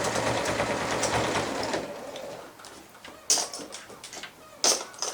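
A sewing machine runs steadily while backstitching along the strap of a shopper bag, a continuous whirring stitch at close range that fades out, followed by a couple of short mechanical clicks.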